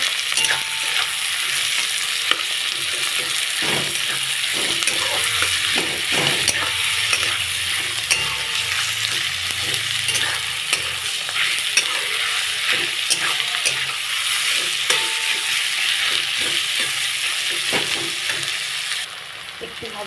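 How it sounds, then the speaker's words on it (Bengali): Onions and garlic sizzle steadily in hot oil in a wok while a spatula scrapes and stirs in frequent irregular strokes, close and continuous for the whole stretch without speech. "ভাজা ভাজা করব একটু ভাজা"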